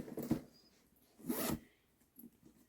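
Zipper on the front zip pocket of a thrifted satchel with black gunmetal hardware, pulled in two quick rasping strokes with a fainter tug after, close and quiet.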